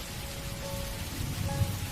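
Rain falls steadily in a soft, continuous hiss with a low rumbling undertone, moderately quiet and unbroken, with no voices.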